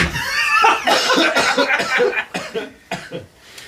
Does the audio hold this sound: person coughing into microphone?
yes